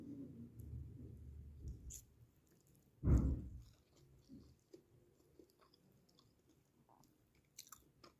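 Someone chews Maggi chow mein noodles close to the microphone, with soft, wet mastication and one sharp, louder bite, quiet chewing sounds continuing afterward and no talking.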